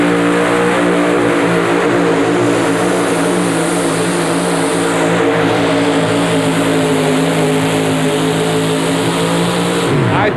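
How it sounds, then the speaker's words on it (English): A 4WD truck engine roars at full throttle during an indoor truck pull at the Capital Center in Landover, Maryland, a loud, sustained, strained drone that holds steady before cutting off at the end, with an announcer's voice faintly underneath. "an outstanding pull for Thomas Moat and the Country Bunkin"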